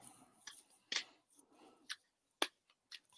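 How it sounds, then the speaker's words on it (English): Tarot cards being shuffled: soft, quiet riffles and sharp snapping flicks in an irregular rhythm, close and otherwise near-silent. "I'm going to shuffle the cards"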